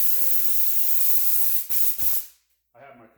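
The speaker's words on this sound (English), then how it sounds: "Then I'm going to turn my tornador up." Loud, steady hiss of pressurized air from a Tornador cleaning tool spraying a polishing pad close by, cutting off briefly before a voice speaks at the end.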